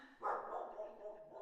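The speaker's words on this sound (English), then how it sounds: "That's one dog doing all that." A single dog gives one short, faint bark that tails off into a soft whine, heard from a distance indoors.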